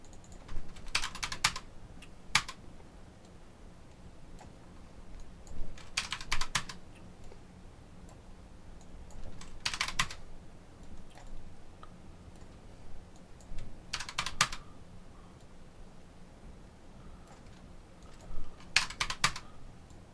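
Someone types on a Bloody brand computer keyboard in short bursts of crisp key clicks, separated by quiet pauses over a faint room hum.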